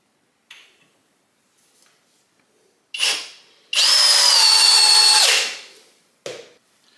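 Flex compact drill on a 2.5 amp hour battery driving a 4.5 inch wood screw into wood at speed 2, a steady loud whine lasting about two seconds, bracketed by brief clicks and short bursts of handling noise.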